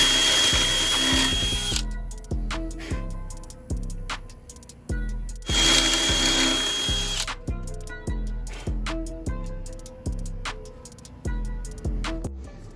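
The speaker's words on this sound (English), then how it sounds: "I'm going to drill two holes, two 12mm holes" A power drill runs in two long high-pitched bursts drilling 12mm holes in an electric scooter, each followed by a series of rhythmic ratcheting clicks, close and loud.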